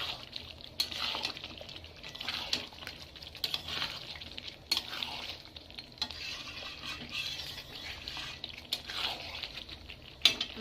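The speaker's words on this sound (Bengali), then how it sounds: "এবার গরম মশলাটা দিয়ে আমি ভালোভাবে নেড়ে চেড়ে মাংসটা নামিয়ে নেব।" Mutton being stirred with garam masala in a pan, a steady scraping and soft sizzling that runs with repeated stirring strokes, close and fairly quiet, with no talking.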